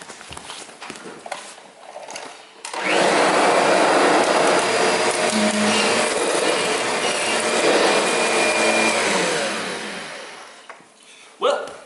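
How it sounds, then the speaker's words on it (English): A Kirby vacuum cleaner with a wand attachment switches on and runs with a loud, steady whine for several seconds before spinning down, with a few scuffs and knocks before and after. "So now I have to go get a wand out and actually do the vacuuming."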